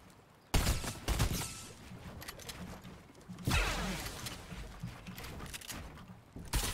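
Sustained automatic gunfire in the Fortnite video game, a relentless rapid stream of shots with loud bursts starting and restarting, close and dense throughout.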